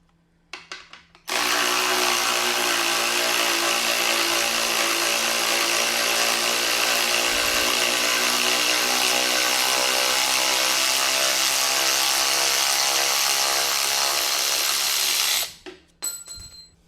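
A Hypertough cordless ratchet runs steadily for about fourteen seconds, a loud continuous motor whine with a buzzing harmonic drone, starting abruptly and cutting off cleanly, with no talking.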